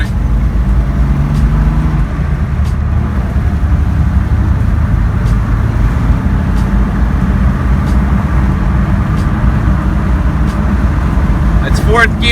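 A Toyota FJ60 with a Jim C recurved distributor pulls hard on the highway, its engine droning steadily and loudly under heavy throttle amid road and wind noise, with faint sharp clicks scattered through.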